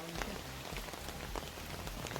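Rain pattering steadily on a surface outdoors, a dense, close hiss of scattered drops with no pauses and no voices.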